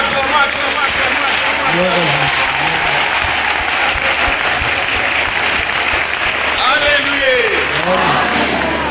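A church congregation applauding loudly and steadily throughout, a dense wash of clapping with voices calling out among the crowd.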